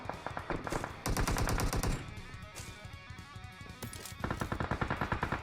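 Rapid automatic gunfire in the mobile game PUBG Mobile, with dense bursts of shots separated by short pauses, loud and close, and no talking.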